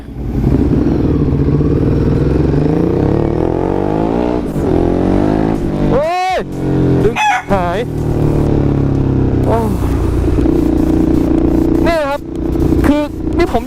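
A Ducati Hypermotard motorcycle idles loudly up close, then revs in several sharp bursts as it sets off, with someone talking over the engine.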